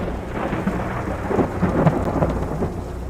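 Monsoon thunderstorm in the Sonoran Desert, with steady rain and rolling thunder rumbling continuously throughout, swelling a little in the middle, with no voices.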